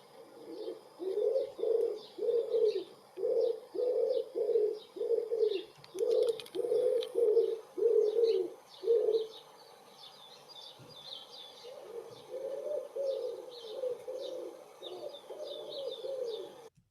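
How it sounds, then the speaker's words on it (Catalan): A wood pigeon in a wooded setting coos in a steady rhythmic series of deep, hoarse, fairly loud phrases, pausing and then resuming, while smaller birds chirp and tweet faintly in the background. "en anglès és wood pigeon, que és com paloma de madera"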